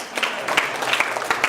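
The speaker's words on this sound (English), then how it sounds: "Give yourselves a hand of applause, please." An audience at a retirement event applauds in a steady, moderately loud patter of many hands, with sharper individual claps standing out.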